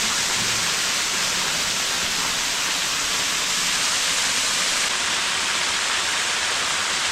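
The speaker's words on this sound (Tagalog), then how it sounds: "Dito makikita ko yung ay tubig dito na umaagos. So ito yung tubig niya, napakalinaw." Continuous broadband rush of flowing water, steady and fairly close, with no talking.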